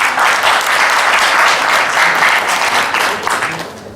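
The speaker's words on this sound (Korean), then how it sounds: "모두 박수로 맞이해 주시기 바랍니다." An indoor seminar audience applauds to welcome a lecturer on futures and options trading, a dense continuous clapping from many hands that stays loud, then starts to taper at the end.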